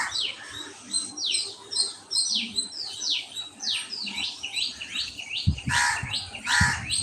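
Crows and sparrows chirp and call repeatedly in a busy outdoor chorus, with a couple of louder harsh calls near the end.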